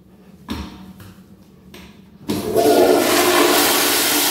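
A 2017 American Standard Madera toilet is flushed, with two soft clunks of the handle first and then a loud, close rush of water that swirls and keeps going strongly to the end.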